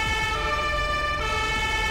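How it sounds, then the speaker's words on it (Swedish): An ambulance siren wails steadily and loudly in GTA V with the LSPDFR police mod, as a continuous tone over rumbling vehicle noise. "Ambulansen kör med syren och allting."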